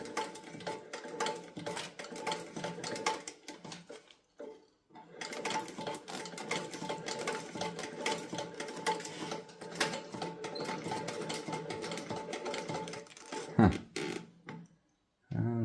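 A Singer 29K51 sewing machine, restored after ten years stuck, runs in fast rattling stitching bursts with a short pause midway and a brief stop near the end, loud and close with no talk.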